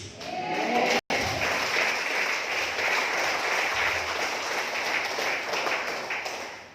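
A seminar audience in a church setting claps together in a steady, moderately loud wash of applause for several seconds, with a brief dropout early on and no speech over it.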